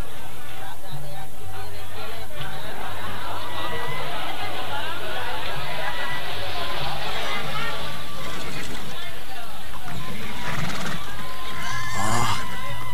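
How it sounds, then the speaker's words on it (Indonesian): Horses at a trading place whinny and neigh over clip-clopping hooves in an Indonesian radio drama, loud and near, with a crowd murmuring and people talking beneath. "itu di sana banyak terdapat kuda-kuda yang mungkin diperdagangkan"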